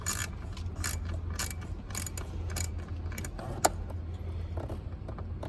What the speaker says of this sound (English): And we'll get our ratchet extension and 8mm socket. Start taking off our bolts.